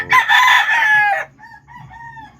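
A hen with a cold gives a loud, drawn-out call up close during feeding, followed by softer, quieter clucking tones; no talking.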